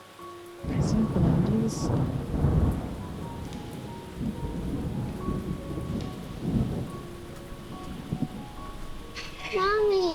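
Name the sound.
rain falling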